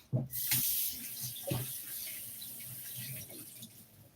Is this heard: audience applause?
no